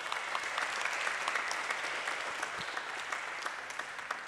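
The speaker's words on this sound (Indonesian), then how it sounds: "Tepuk tangan dulu dong." An audience at an Islamic preaching talk claps in a steady, dense round of applause that fills the whole stretch at moderate loudness, with no voices heard over it.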